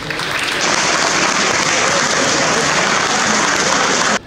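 A crowd at a youth tournament closing ceremony in Brest claps for the volunteers and club president, a dense, even burst of applause that starts abruptly and stops short.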